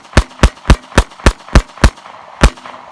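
SCCY CPX-2 9mm pistol fired rapidly, eight sharp, loud shots in a quick, slightly uneven rhythm, with a short pause before the last one.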